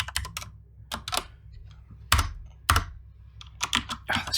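Someone types on a computer keyboard while writing C# code, producing bursts of crisp key clicks with irregular pauses and a few louder thumps, close and with no talk.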